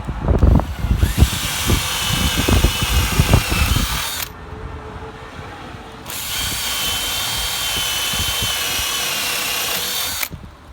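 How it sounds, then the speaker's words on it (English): Power drill whirring loudly as it bores holes into pallet wood, then a pause, then a second long steady run of the drill motor before stopping. "time to drill some more holes into here"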